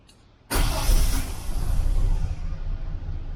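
A 1979 Holden Kingswood on new spark plugs cranks and fires up abruptly, settling into a loud, close, rough-edged idle that gradually steadies.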